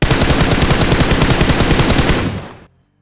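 Sustained automatic gunfire from the PUBG Mobile shooter game rattles loud and dense for more than two seconds, then cuts off abruptly into silence.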